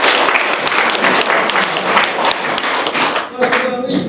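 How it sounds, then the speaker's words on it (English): Audience applause for a workshop group at a parks and recreation master plan workshop, a dense, steady round of clapping from many hands that fades slightly near the end. "let's give Group 2 a round of applause"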